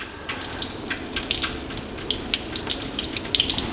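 Water runs and trickles steadily from a 1949 Chevrolet's radiator drain, with small splashes and drips popping over a continuous gurgling flow.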